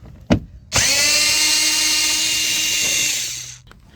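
Power driver fitted with a Torx 30 bit runs in one steady burst of nearly three seconds, backing out a door panel screw on a 2010 Volkswagen Tiguan 2.0T, with a sharp click just before it starts and a quick stop.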